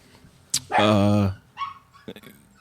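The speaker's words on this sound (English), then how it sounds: "That's the unofficial third member of the pod, my dog Basil." A dog gives one loud, close bark that trails into a whimpering yelp, followed by a few softer, brief sounds.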